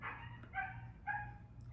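Dog barking outside, a few faint, distant yips and barks over a low hum.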